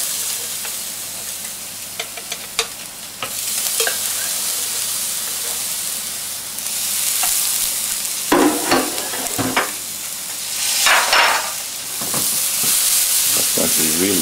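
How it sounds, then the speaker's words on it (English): Samphire is stirred and tossed together with potato and onion in a pan, giving a continuous hiss and sizzle under a series of scraping stirs and clacks, with brief speech in the middle. "I'm just going to drain that well and mix this with the potato and the onion."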